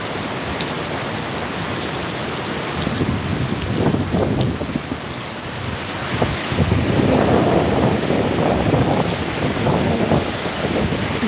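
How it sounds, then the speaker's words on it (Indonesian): Heavy rain pouring steadily in Papua, a dense loud roar with gusty wind buffeting the microphone, swelling slightly louder toward the end, no voices. "Di Papua hujan paling besar-besar kayak begini teman-teman."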